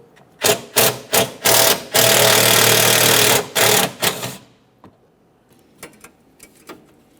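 A power tool spins out a 10mm mounting bolt on a 2003-2008 Toyota Corolla during radiator support work, giving loud, close, stuttering bursts and one sustained whir, then quiet metallic ticks.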